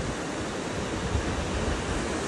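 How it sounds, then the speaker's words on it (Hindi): Fast, dangerous river water rushing past in a continuous, loud broadband roar with no breaks, heard alone without voices. "ये देखो इधर से देखो कितना खतरनाक नदी आ रही है।"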